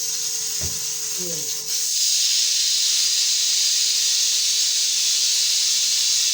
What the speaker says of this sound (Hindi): ये हमारा टाइम हो चुका, प्रेशर का टाइम हो गया। अब हमने भी इसका गेट खोल दिया